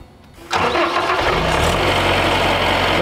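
The engine of a Rotoflo wellpoint construction dewatering pump cranks and catches after a brief quiet moment, then settles into a loud, steady, close rumbling run.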